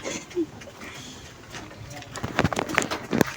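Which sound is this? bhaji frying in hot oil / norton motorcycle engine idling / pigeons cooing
pigeons cooing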